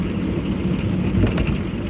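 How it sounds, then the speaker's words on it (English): Steady, dense rain falls outdoors, a loud unbroken wash of noise with a couple of brief louder spatters, and no voices. "Yeah, it's really raining out."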